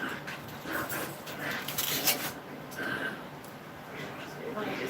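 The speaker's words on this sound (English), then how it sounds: "my puppies are having a blast in the living room, so you're going to hear them wrestling and playing" Puppies wrestling and playing in a living room, with scuffling, little yips and whimpers over a steady background, under a person talking.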